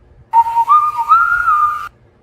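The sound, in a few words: whistling a little tune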